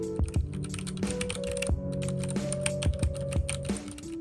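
Steady typing on a white-on-white Ducky One 2 Mini keyboard with brown switches and O-rings, a close run of muted, rhythmic key clacks with no talking.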